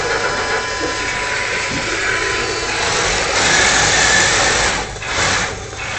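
A tank engine starts up and runs with its exhaust, a loud, steady mechanical whir and rumble with a brief surge in intensity partway through, no voices.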